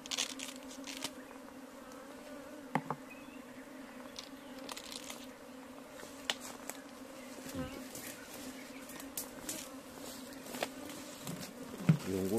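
Honey bees buzz steadily around a modern beehive during hands-on beekeeping training in Minvoul, northern Gabon, a continuous close drone with occasional louder passes and faint distant voices.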